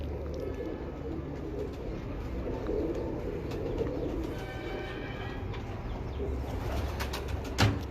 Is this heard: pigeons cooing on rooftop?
yes